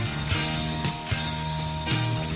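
Opening bars of a song played over the radio: steady full-band pop music with sustained tones and a few rhythmic accents, heard alone with no talking.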